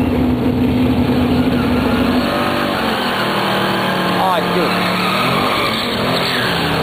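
A Camaro and a truck at a drag race roar past with loud revving engines and a tire squeal, heard close and strong under excited spectator voices.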